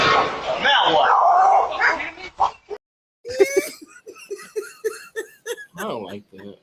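A dog barks in a video being played, with short yaps and whimpers in the second half. They follow a stretch of loud talk and laughter, and voices continue over the barks.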